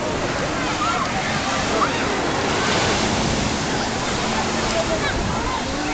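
Sea waves wash steadily onto the shore at Ballesteros, a continuous loud roar of surf and sloshing water with no pauses, heard close and alone.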